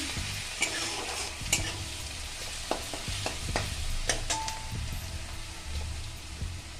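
Garlic paste frying in a pan, a soft steady sizzle with faint scraping and stirring clicks throughout, close and fairly quiet.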